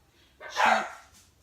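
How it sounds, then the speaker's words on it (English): A dog gives a single sharp bark close by, standing out against near silence. "I'm sorry for the dogs barking."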